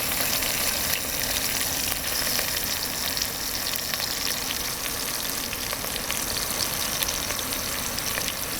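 Short ribs sauté and brown in a 3-quart Instant Pot during boondock camp cooking, giving a steady, close, moderately loud sizzle and crackle that runs evenly throughout with no talking.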